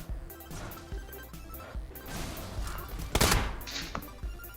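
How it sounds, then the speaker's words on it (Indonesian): Gunfire in the mobile battle-royale game PUBG Mobile: scattered shots and bursts crack out over game ambience, with a loud sharp burst around the middle and several thuds, no speech heard. "woi, siapa yang nembak ini?"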